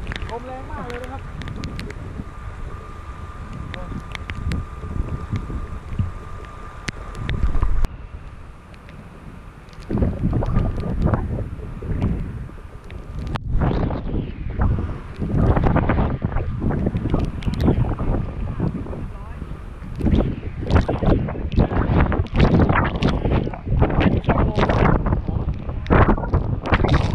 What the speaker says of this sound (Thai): หน้าผาดูฟังเสียงลม